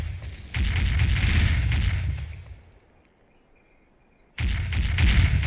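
Cannons fire from a ship's right side in the Sea Dogs video game, a loud, sustained rumbling roar that fades into a quiet lull. A second heavy boom then bursts in and keeps roaring.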